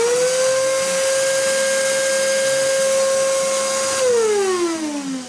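A noisy Hoover vacuum cleaner used as a workshop vac runs with a loud steady whine and hiss, its pitch sliding downward near the end as it winds down.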